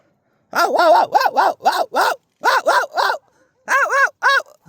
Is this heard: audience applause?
no